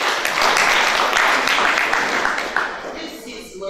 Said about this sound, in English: It deserves also a very big hand clap.